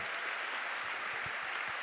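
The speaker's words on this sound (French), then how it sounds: "Est-ce qu'on peut applaudir ces personnes qui donnent du temps" An audience at a Radio Maria France thanksgiving gathering for the station's 25th anniversary applauds its volunteers. The clapping is a steady, diffuse wash of many hands, heard from a moderate distance without pause.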